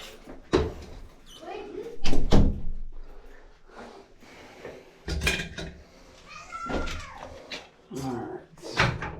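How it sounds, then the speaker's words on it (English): A door closes in a building hallway, with several sharp knocks and thuds scattered through the clip alongside brief sounds of movement and handling nearby. "I'm gonna go in and close the door"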